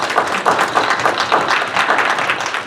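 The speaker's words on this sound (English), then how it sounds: "Could we get a round of applause for these three young people in University Park" Applause at a university board of trustees meeting honoring three young people, dense steady clapping from a room full of people throughout, fairly close and even in loudness.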